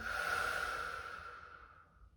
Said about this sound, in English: We'll take a deep breath in. Exhale it out.